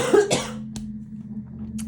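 A person coughs twice, close and fairly loud: a sharp burst near the start, then a brief, fainter cough, over a steady low hum in an otherwise quiet room.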